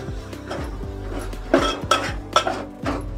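Dried shrimp are stirred in a pan as they roast, the spatula scraping and knocking against the metal in several distinct clanks over a low background hum.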